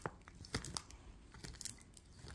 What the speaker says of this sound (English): She just likes chewing on the bag.